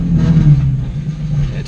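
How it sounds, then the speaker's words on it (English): A car engine idles close by with a low, steady rumble and a faint metallic buzz from an exhaust rattle, heard in a brief snippet with no one speaking. "It's got an exhaust rattle."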